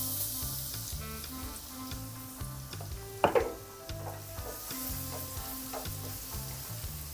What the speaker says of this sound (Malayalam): എണ്ണ ചൂടായി ഇതിനകത്ത് ഒരു 3 അല്ലി, വലിയ അല്ലി വെളുത്തുള്ളി ഗ്രേറ്റ് ചെയ്തിട്ട് കൊടുക്കേ.